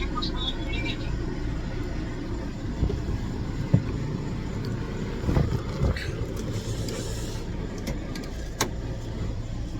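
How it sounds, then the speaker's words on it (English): A Freightliner truck engine idles with the hood open, a steady low rumble with scattered clicks and knocks, faint and close. "let's pop the hood and listen to this super smooth running engine"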